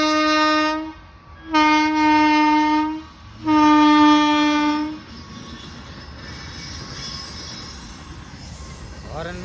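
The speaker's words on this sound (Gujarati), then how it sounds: "હોર્ન મિત્રો એટલા વાગે છે ને કે કાંઈ સમજાતું જ નથી. નકરો હોય ને ટ્રેનનો અવાજ આવે છે." A long train at a level crossing blasts its horn in three loud, sustained tones, then a steady rumble of the passing carriages rolls on after the horn stops.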